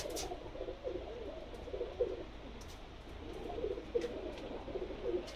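Pakistani pigeons of a pearl-marked breed coo softly and continuously in low, rolling murmurs, with several birds overlapping at a steady, moderately distant level.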